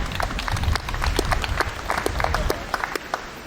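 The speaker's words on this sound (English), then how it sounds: "I suggested we have a round of applause would be appropriate to thank Warwick for his great work." Crowd applause for a wood carver at the unveiling of a carved sculpture: a moderate burst of many hands clapping, steady and fairly close, thinning toward the end.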